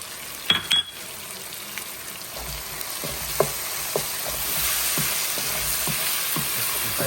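Garlic sizzling in a pan as the base for a Prego tomato basil garlic sauce for ravioli, a steady close hiss with a couple of sharp clinks near the start and soft stirring taps, no voices.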